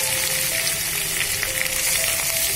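Potatoes fry in a pan with dried red chillies and curry leaves, making a dense, even sizzle that holds steady and close throughout.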